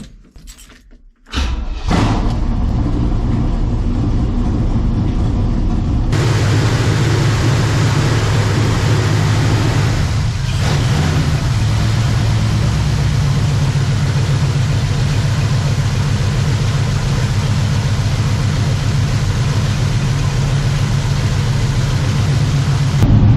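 A truck engine, just fitted with new spark plugs, idles steadily and loudly without the choke after a brief stumbling start, running close by for a long stretch; partway through, its note thickens into a rougher, fuller rumble.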